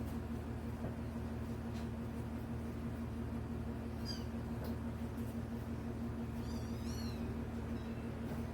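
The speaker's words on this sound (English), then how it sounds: "if y'all hear, I have some baby kittens" Baby kittens give several faint, high meows in a home kitchen over a constant loud low hum.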